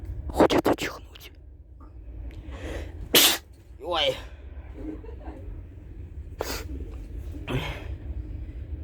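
A person with a runny nose sneezes in a quiet room, a sharp burst followed by a short exclamation, with sniffles and soft breathy sounds around it and occasional quiet speech.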